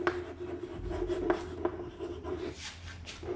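Pen or chalk writing out an equation during a class 10 maths lesson on linear equations, a series of faint scratching strokes in short bursts, quiet and close with no talk.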